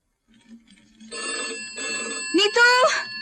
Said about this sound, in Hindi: नीतू, फोन सुन।